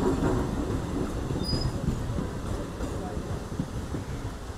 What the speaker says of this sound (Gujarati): મુંબઈ એક્સપ્રેસ લાગે છે, અરે મુંબઈ અહીંયા મહારાષ્ટ્રમાં ચાલતી લાગે છે આ ટ્રેન ખાલી